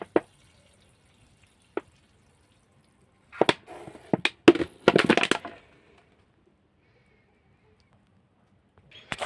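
Water soaking into the soil of potted pepper plants, with a few sharp separate drips followed by a short cluster of pattering and trickling, then quiet, close and fairly loud.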